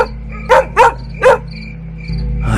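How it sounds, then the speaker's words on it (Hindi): A dog barks three times close by, sharp and loud, against a steady background of buzzing insects or crickets and a low electrical hum, with a louder rumbling noise rising near the end. "अरे भैया जी, ये कुत्ता अचानक ऐसे क्यों भौंक रहा है रे?"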